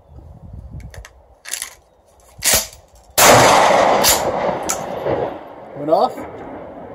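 A wet Winchester 12 gauge slug goes off in a drop test: a few scattered thumps first, then one sudden loud, sharp blast that stays up in a long, rough ringing decay.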